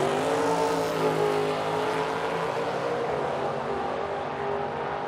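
Drag racing cars at an Edmonton drag strip event, a roadster among them, roar steadily and loudly through the whole stretch with harmonic engine tones and no talk.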